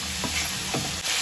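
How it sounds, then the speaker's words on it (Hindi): Boiled kidney beans are stirred into a sizzling pan of spiced mixture, with a constant frying hiss broken by a few soft scrapes of the spoon. "राजमा को भी अच्छे से मिक्स करूंगी।"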